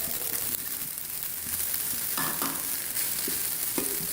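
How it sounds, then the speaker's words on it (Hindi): Chopped capsicum and other vegetables fry lightly in a pan for a chicken corn soup, giving a steady close sizzle with soft stirring scrapes and a few louder utensil knocks, no voices. "इसको भी हल्का सा भून लूँगी और मिक्स भी कर लूँगी"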